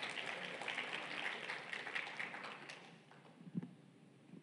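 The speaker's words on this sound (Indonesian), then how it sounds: "Kasih tepuk tangan kepada Tuhan." Church congregation clapping in praise during a Sunday sermon, with a steady wash of applause that thins out toward the end alongside a few low thumps.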